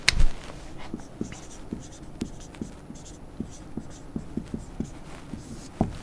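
Chalk taps and strokes across a classroom board in a quick, irregular series of short clicks and scratches, close and distinct over a faint room background.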